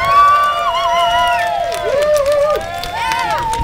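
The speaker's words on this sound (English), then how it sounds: "Give yourselves a big cheer." Audience at a show cheering and shouting together in a loud, continuous burst of crowd noise, with high excited voices rising and falling for a few seconds.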